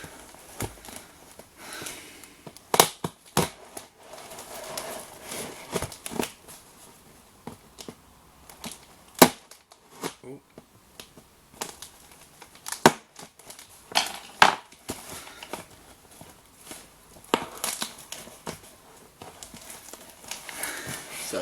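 A cardboard parcel is pried open with a screwdriver, giving sharp, irregular stabbing clicks and scrapes, fairly quiet and close, with occasional voice between them.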